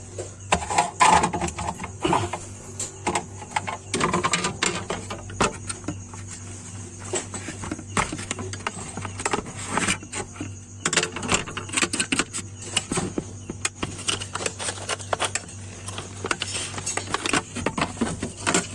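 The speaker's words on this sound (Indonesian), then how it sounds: "Kita putar sampai di posisi defrost" A mechanical defrost timer on a two-door Sharp refrigerator is turned by hand, giving a dense run of rapid ticks and clicks for the whole stretch over a steady low hum, close and fairly loud with no talking.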